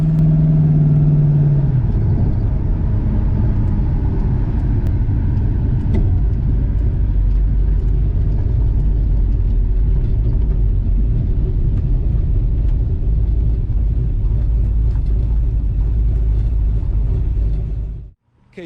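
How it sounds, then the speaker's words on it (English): Traffic on a busy road, a deep continuous rumble of passing vehicles with low engine drone throughout, heavy and close, cutting off abruptly at the end. "you're gonna have to forgive me for the traffic noise. The road's pretty busy today"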